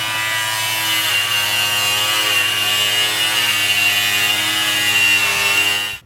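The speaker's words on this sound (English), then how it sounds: "We're about to cut the 4Runner." Power saw cutting into the metal body of a Toyota 4Runner, a steady, loud high-pitched grinding whine that runs continuously for several seconds before stopping abruptly.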